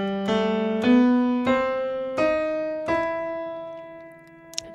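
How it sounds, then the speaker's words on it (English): A harmonic minor scale played note by note on a sustained, piano-like instrument, six clear struck tones stepping upward at an even pace, each ringing into the next, with no voices. "What does the harmonic minor scale sound like? Well, it sounds like this."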